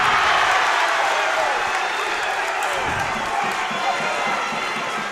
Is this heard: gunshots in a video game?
no